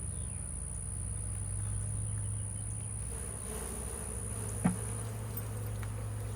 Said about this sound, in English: I'll shake these bees off first just to make it a little easier to see.